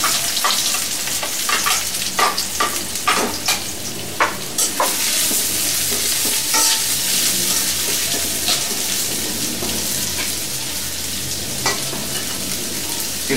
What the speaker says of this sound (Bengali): একটা কড়াইয়ে তেল গরম করে তাতে অনেকগুলো পেঁয়াজের বেরেস্তা দেব।